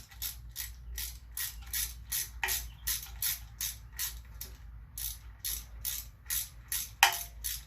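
A hand ratchet clicks in quick repeated bursts while tightening bolts on a Quad 4 E16 timing chain housing, each stroke a crisp pawl chatter, close and fairly loud with no talk.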